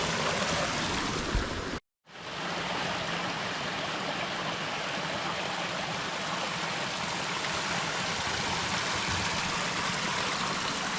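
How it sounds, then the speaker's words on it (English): A small waterfall and stream on Mount Wachusett, giving a steady, close, broadband rush of falling and flowing water with one brief dropout near the start. "Mount Wachusett's got a little bit of stream, reservoir, nice little waterfall."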